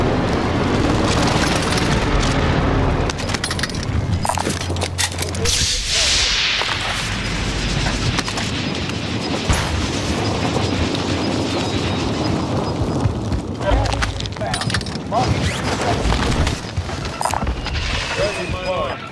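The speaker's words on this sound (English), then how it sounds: "Enemy precision airstrike." Precision airstrike explosions in Call of Duty Modern Warfare (2019), loud booms and whooshing blasts mixed with sharp gunfire cracks in a dense, continuous battle din, with voices talking over it.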